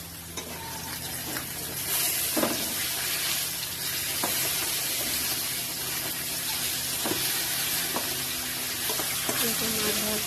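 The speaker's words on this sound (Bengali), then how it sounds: "এখন মাছটা ভাজছি।" Fish frying in oil at home gives a steady close sizzle with faint pops and occasional stirring clinks, continuous throughout with no talking.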